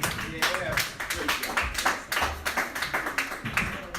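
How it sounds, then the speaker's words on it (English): Crowd applause for a comedian at a dive bar comedy show, rapid overlapping claps, loud and sustained across the whole stretch, with some cheering voices mixed in. "Another round of applause for Nick Kaminsky."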